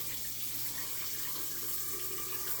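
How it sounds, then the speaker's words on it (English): Water runs steadily from a shower in a river house being winterized, a continuous soft hiss and rush heard from some distance, low in level and without talk. "Now we're going to run the shower."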